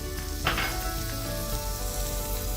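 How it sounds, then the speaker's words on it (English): Steady sizzling of spices and ginger garlic paste frying in a hot pan, continuous and close, with a brief louder crackle near the start. "Continue frying this."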